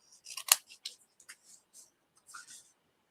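Scissors snip through card paper in a quiet craft setting, a series of short, crisp cuts in an uneven rhythm, close and fairly faint.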